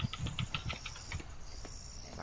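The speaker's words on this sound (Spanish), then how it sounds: "Maldita abeja, porque traes esta puta abeja aquí." A bee buzzes in the video game Atlas, a steady, pulsing insect drone with a rhythmic flutter that fades slightly, heard alone over a faint background hiss.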